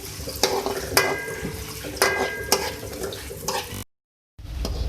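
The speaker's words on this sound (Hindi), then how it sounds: "सबसे पहले ऑयल में मैं 2 मीडियम साइज़ के प्याज ऐड करूँगी, को फ्राई करेंगे।" Two medium onions frying in oil in a pan, a steady sizzle broken by repeated sharp clanks of a spoon stirring against the metal, then a short silence.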